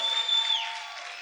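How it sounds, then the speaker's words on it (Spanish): A church congregation applauding and shouting praise to the Lord during a service: a dense, steady wash of crowd noise with a thin tonal edge, held evenly through the brief moment. "Grita y aplaude fuerte al Señor en esta hora."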